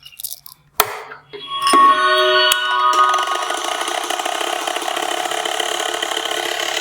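A perfume-blending machine starts up after a few clicks and knocks, then settles into a steady mechanical whir with a tonal hum that runs on unbroken and fairly loud. It is mixing a perfume mixture.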